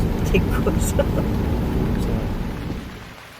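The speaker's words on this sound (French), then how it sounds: "c'est sous la pluie que nous roulons vers Doulin" Steady rain drums on a moving car on the road to Doolin, Ireland, a broad continuous wash of noise with road rumble underneath.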